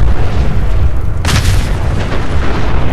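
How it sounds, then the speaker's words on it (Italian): Video game explosions in Fallout 4: a deep booming blast bursts in abruptly over a constant low rumble and rolls on, loud and close, with no talk. "la madonna quante esplosioni"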